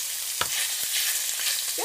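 Meat stir-fries in hot oil in a pot for torn noodle stir fry, giving a steady loud sizzle with a few clanks of the utensil against the pot, no voices.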